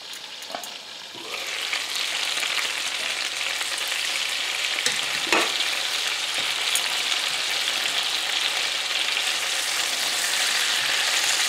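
Chicken pieces frying in a pan of oil, a dense continuous sizzle and spatter that grows louder after the first seconds, with a brief clatter partway through and no voices.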